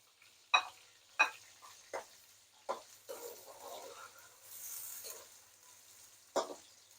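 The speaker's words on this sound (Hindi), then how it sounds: "इसमें प्याज डाल देंगे, प्याज़ों को फ्राई करेंगे।" Sharp stirring scrapes and clatters over a soft, steady sizzle of onions frying in oil for chicken biryani, with a few louder knocks spaced irregularly.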